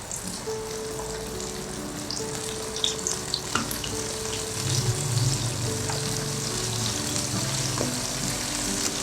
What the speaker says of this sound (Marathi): हलक्या हाताने तळायचं, म्हणजे मग ते फुटणार नाही आतमध्ये.